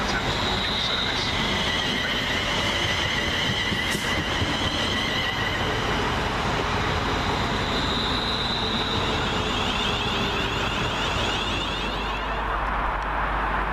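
A London Northwestern Railway Class 350 electric unit moves through Milton Keynes Central station with a steady broadband rumble of wheels on rail. A high whine and faint squeal sit above it, and muffled station noise is present.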